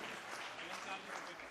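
Applause at an award ceremony honouring young entrepreneurs and social workers in Dewas, a brief, faint burst of scattered clapping from a gathered crowd.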